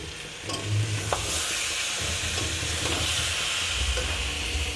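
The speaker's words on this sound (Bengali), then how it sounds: "আমি ডিমের ঝোলটা একটু নাড়িয়ে দাঁড়া" Egg curry is stirred in a pan, a soft, steady sizzle and bubbling with occasional scrapes of the spoon against the pan, close and fairly quiet.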